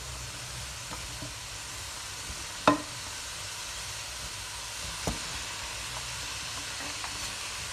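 Spices sautéing in a pot for a vegetable and oats soup with coriander give a steady, quiet sizzle and hiss, broken by a few soft clinks of stirring.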